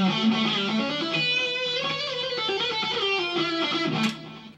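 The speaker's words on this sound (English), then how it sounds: "I'm gonna solo the guitar so you can kind of hear the phrasing" Soloed electric guitar melody from a track, a sustained, harmonically rich lead line with expressive bends and slides, heard alone and fairly loud, ending with a brief bright squeal.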